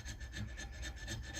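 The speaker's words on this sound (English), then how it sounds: "we're gonna just keep on keeping on filing here and just kind of work from both sides to get those spots opened up" A hand file rasps back and forth across a Bowie knife blade in steady, even strokes, about eight close, scratchy passes in quick rhythm with no talking.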